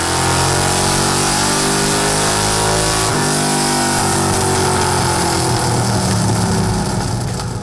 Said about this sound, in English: We're gonna roll this thing down to the chassis dyno at Westech Performance.